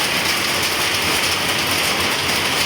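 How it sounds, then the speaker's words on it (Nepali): Hail with rain falls in a steady, dense hiss of pattering across surfaces, loud and continuous with no pauses and no voices. "अहिले चाहिँ म यहाँ असिना पानी परिरहेको छ"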